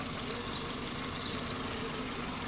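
A 2010 Toyota Passo Sette with a 1500 cc engine idles steadily, a continuous low rumble with broadband noise and no talk over it.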